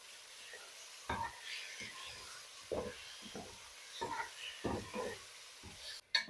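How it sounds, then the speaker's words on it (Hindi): A spoon stirs chicken breast cubes in a cooking pan, giving intermittent soft scrapes and clinks over a faint steady sizzle, quiet and close. "अब ये मैं शामिल कर दूंगी और अच्छी तरह से चम्मच चला लूंगी जब तक कि चिकन का कलर चेंज ना हो जाए"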